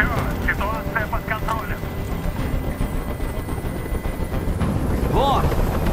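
In the video game Detroit: Become Human, a helicopter's rotor and engine roar drones continuously near the scene while characters talk over it.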